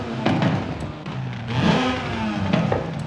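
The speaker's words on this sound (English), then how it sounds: "let's go ahead and listen to the exhaust in this car" A Mazda RX-7 with the stock rotary exhaust revving in Forza Horizon 5, rising and falling in a few quick blips of a buzzy engine note, close and strong.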